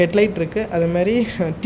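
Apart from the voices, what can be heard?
No distinct noise like a dog, phone or traffic.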